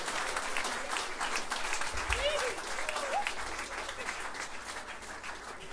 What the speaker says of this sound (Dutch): ik zeg even een groot applaus